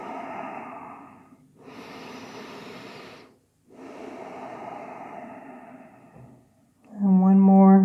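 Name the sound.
deep breaths in yoga child's pose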